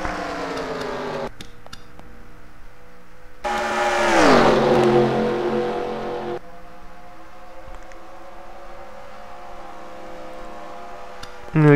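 Race car engine revving loudly on a track during an oval series all-star race, a high harmonic whine rising and falling as the car passes close by, with a second engine surging louder in the middle, commentators talking over it.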